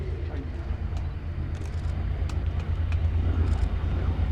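A Hawker Fury Mk.II flies at Sywell Airshow 2024, pulling a tight high-G turn and rolling out on finals; the distant engine rumble swells gradually over faint ambient crowd noise.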